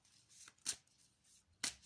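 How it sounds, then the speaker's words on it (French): Tarot cards being shuffled quietly by hand, with a few faint, brief riffling flicks separated by short pauses, close and soft with no talking. "Donc, je vais rebattre les cartes."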